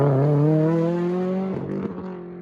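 A Subaru WRX STI fitted with a very loud Tomei exhaust revs hard near the mic, holding a raspy, rising note before dropping off into a few short blips.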